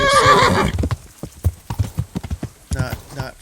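A horse in Kingdom Come: Deliverance whinnies loudly, then its hooves clip-clop in an uneven rhythm close by, with a second short neigh near the end.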